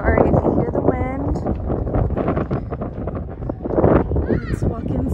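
Wind buffets the microphone on a breezy day at a house under construction, a steady rough rumble running under continuous close talk from several people, including children.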